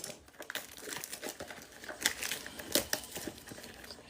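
Foil trading card packs from a Pokémon Stellar Crown set crinkle and tear as they are ripped open, soft and close, in irregular handling bursts.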